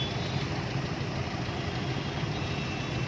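A car engine idles in heavy traffic as a steady, low, even rumble that runs unbroken throughout, with no voices.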